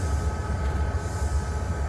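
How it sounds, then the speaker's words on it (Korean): A train stands waiting to depart, giving a steady low rumble and idling hum with no clear movement or clatter, at moderate distance. "여기 출발을 기다리고 있는 기차가 있습니다"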